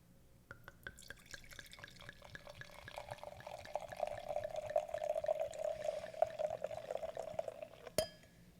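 A drink poured into a glass, heard as a steady liquid stream that builds and rises in pitch as the glass fills, ending with a sharp clink, close and fairly quiet with no talking.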